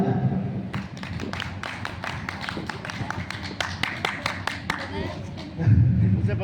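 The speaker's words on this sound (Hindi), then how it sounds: "बोली इतनी जोरदार तालियां हो जाए" An audience claps loudly and continuously at a Hindu religious katha in Churu, Rajasthan, with sharp, dense hand claps running nearly throughout and a voice speaking over the applause near the end.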